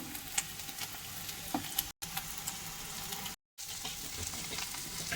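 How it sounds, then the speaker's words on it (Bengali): Ginger garlic paste frying in a pan in a village kitchen, a steady crackling sizzle with small pops and stirring scrapes, broken by two brief silences. "আদা রসুনের পেস্টটা দিয়ে দেওয়ার পর এটা একটু ভালো করে ভেজে নেব"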